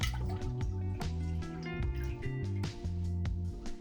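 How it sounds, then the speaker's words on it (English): Coconut milk poured into a pan beside shrimp for a Thai red curry, thick glugging drips and liquid splashes in a close, uneven rhythm over soft background tones. "Take the coconut milk, pour it in that thing."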